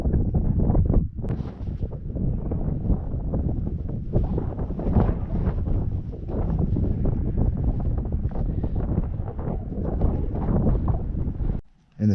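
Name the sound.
wind blowing at wild camp by Claerwen Reservoir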